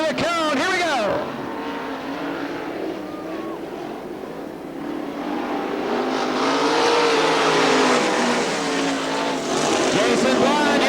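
410 sprint cars roar around Crystal Motor Speedway in Crystal, Michigan, engines rising and falling loudly as the pack picks up pace, with a commentator talking over the continuous engine noise.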